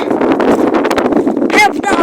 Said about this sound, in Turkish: Abi çok kötü rüzgar var.